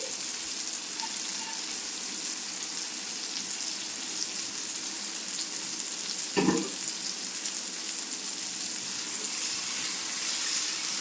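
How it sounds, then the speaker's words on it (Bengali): Ridge gourd and fried bitter gourd sizzle steadily in a pan, with one brief scrape of stirring partway through; no talking. "আবার একটু নাড়াচাড়া করে নিচ্ছি দেখুন"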